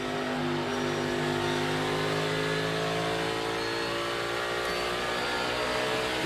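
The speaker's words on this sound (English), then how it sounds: "You hear him downshifting." A NASCAR race car at the 2022 Rouff Mortgage 500 roars continuously, its engine pitch sliding down in steps as the driver downshifts, loud and close with no talk over it.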